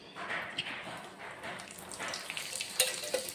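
Dried red chillies fry in a little oil in a pan, making a faint steady crackling sizzle close by with small pops and no voices.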